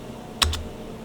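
A couple of quick keystrokes tapped on a computer keyboard, close and fairly faint, with a brief soft thump under the first one and quiet around them.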